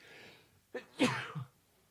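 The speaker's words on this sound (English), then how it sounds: "I have to sneeze" A single sharp sneeze follows a quick intake of breath, close and sudden, then a short exhale trailing off in a quiet setting.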